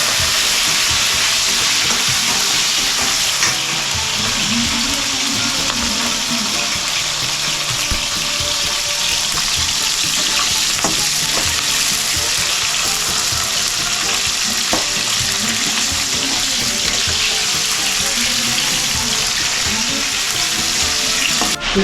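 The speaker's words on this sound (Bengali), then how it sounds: "হালকা ভেজে নিচ্ছি" Capsicum fries in hot oil, giving a steady, loud sizzling hiss throughout with occasional faint stirring scrapes.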